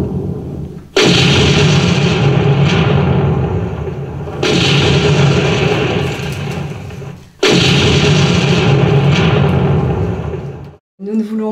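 Cannon and artillery fire from a wartime film soundtrack: three long, loud, booming bursts with rumbling sustain, each cut off sharply before the next, with speech also present in the mix.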